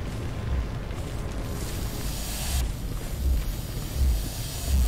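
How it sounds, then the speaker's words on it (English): A backdraft explodes in a firefighting simulator game, a deep rumbling roar of fire with low booming surges that swell and fall over several seconds, loud and close. "So that's what happens when it backdrafts."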